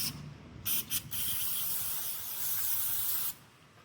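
Carb cleaner hisses from an aerosol can while a 400cc drag bike carburetor is serviced: two or three short bursts, then one long steady spray lasting several seconds, close and fairly loud.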